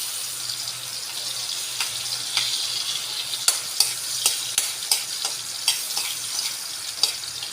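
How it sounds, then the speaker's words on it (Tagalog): Garlic and onion sauté in a hot pan with a steady, close sizzle, broken by a run of sharp scraping clicks from a spatula stirring and tapping the pan in the second half. "Suman natin sa bawang at sibuyas."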